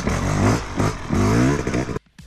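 A two-stroke dirt bike engine revs hard as the rider pops wheelies, a loud buzzing rise and fall of pitch over two seconds, close by, then cutting off abruptly.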